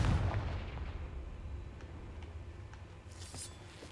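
A Confringo spell blast in Hogwarts Legacy lands as a deep booming explosion at the start, then decays into a low rumbling tail with faint crackles and a brief brighter burst near the end.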